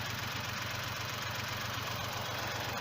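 A Yanmar YM 2220 tractor pulling a plough through wet black soil, its mid-pitched diesel engine chugging steadily and evenly at close range with no other sounds.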